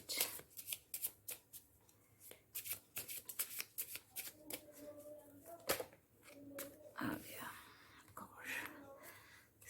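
A tarot deck being shuffled up close: a quick, uneven run of crisp card riffles and slaps, with a soft voice speaking quietly in between.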